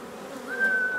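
Honeybees buzz steadily around an open beehive on a farm, a close, continuous drone with one bee's higher hum rising in and holding.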